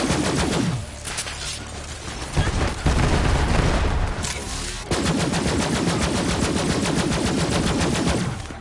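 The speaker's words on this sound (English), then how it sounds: "Oh, by the way, I didn't even test out this gun yet." Sustained automatic gunfire from Moze's newly tried gun in Borderlands 3, a loud continuous rattle of rapid shots with booming bursts and brief pauses, no talking.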